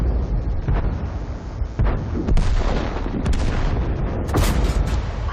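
HE rounds fired from a tank cannon in World of Tanks hit the top of an enemy turret: heavy booming blasts with rumbling low-end tails, several loud shots and explosions close by over continuous battle noise.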